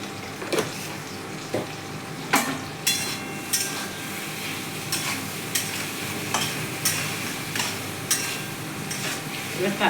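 Spices sizzle and fry in a pan on a home gas stove, with a utensil stirring and scraping at an uneven rhythm of sharp clacks above a steady low hiss, close and fairly quiet, with no talking.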